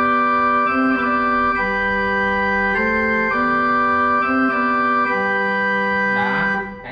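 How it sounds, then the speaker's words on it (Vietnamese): Church organ voice on a Yamaha YDP163 digital piano, a sustained full chordal passage with steady held tones and shifting bass notes, loud and continuous, fading slightly at the end. "Đây là tiếng organ để mình đánh trong thánh lễ."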